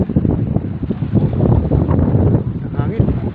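Strong wind roars and buffets the microphone continuously, loud and gusty throughout, with a faint voice underneath.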